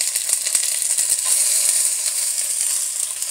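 Chicken pieces sizzle in hot olive oil in a pan, a steady, bright crackle with small pops throughout and no voices.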